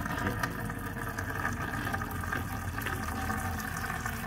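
Steady gushing of liquid being poured from a bucket, a continuous broadband rush with no pauses, close and fairly loud.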